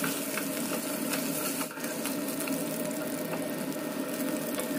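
Fish fried in oil for a Bengali fish curry sizzles steadily with a close, continuous crackle and hiss, with a brief dip partway through.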